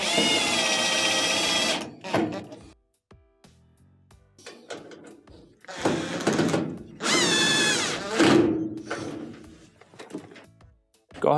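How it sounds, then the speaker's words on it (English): A power drill drives screws during a GE dryer repair, sounding as several whining motor bursts of varying length, loud and close, separated by quiet pauses and faint handling noises. "put it in by hand before you start drilling."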